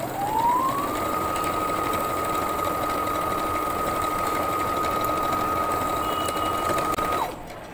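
A sewing machine stitching a skirt whirs steadily and loudly, spinning up at the start and running at an even pitch for about seven seconds before stopping abruptly.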